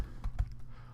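Computer keyboard typing while entering SQL queries, a few distinct key clicks close by in a quiet room, with two slightly louder strokes near the start.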